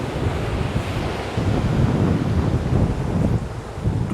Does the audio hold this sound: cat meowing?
no